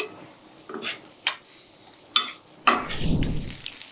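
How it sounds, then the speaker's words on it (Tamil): Aval biryani of flattened rice being stirred in a hot pan, with a spoon scraping and clinking against the metal in several separate strokes over a soft sizzle, fairly quiet and close. "இது நல்லா சூடாகிற வரைக்கும் கலந்து விடலாம்."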